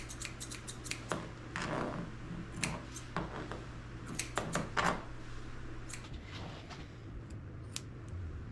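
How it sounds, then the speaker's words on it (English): Scissors snip around a Shih tzu mix dog's feet and between her toes, a steady run of quick, close metallic clicks with short pauses, over a low background hum. "I'm trimming up her scraggly feet, trimming up between her toes"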